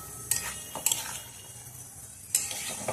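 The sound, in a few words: stirring boiled jackfruit in a pan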